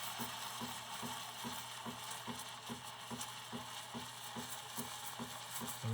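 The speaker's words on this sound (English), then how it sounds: "Get the tip just below the surface so you hear that nice hissing noise." Steam wand of a Breville Barista Pro hissing with its tip just below the surface of milk, a steady quiet hiss with a faint rapid regular ticking pulse underneath.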